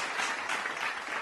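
A short, steady burst of applause, dense and even, fills the moment without any break.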